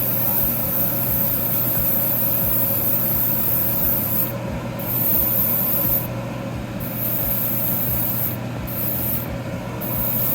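An airbrush sprays paint onto small model kit parts for a 1/100 MG Gundam build, producing a steady close hiss over a constant low compressor hum, with the spray cutting in and out.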